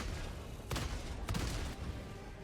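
Two loud AC-8 autocannon shots from a video game, fired at a Hulk's weak spot, land about half a second apart as sharp broadband bursts over a steady background rumble of game noise.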